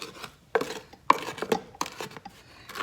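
A spatula scrapes cake batter from the sides of a mixing bowl while making a homemade crunch cake, giving several short rasping strokes with a few sharper knocks, close up and without talk.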